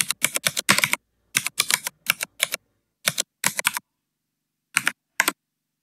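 Close, crisp typing on a computer keyboard while entering C++ code, in quick clustered bursts of keystrokes separated by short silent pauses, with no voices.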